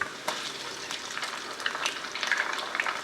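Eggs fry in hot garlic-infused oil with a bright, crackling sizzle, close and steady, with sharper pops and a few stirring taps through the short stretch; no one speaks.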